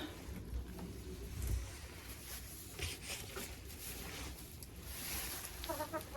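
Hens in a coop cluck softly at a distance, with low murmuring calls over a quiet, rustling background and a few clearer clucks near the end.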